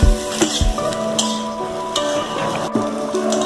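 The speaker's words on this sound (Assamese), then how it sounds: "2 মিনিটমান ভাজি লৈ এতিয়া কুকাৰত দি দিলোঁ" Chicken pieces fry in a pan, giving a steady close sizzle broken by stirring scrapes and clatters, with no voice heard over the cooking.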